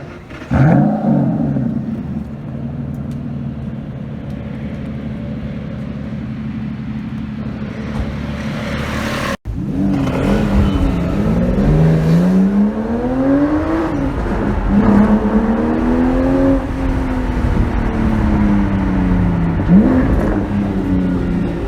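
Ferrari Enzo in Paris streets, the engine idling steadily before an abrupt cut, then loud revving and repeated rising and falling acceleration sweeps as the car drives close by.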